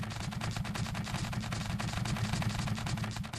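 Spud minigun from Scrap Mechanic firing continuously at a wall, a dense, loud, unbroken rattle of rapid shots holding steady for the whole stretch.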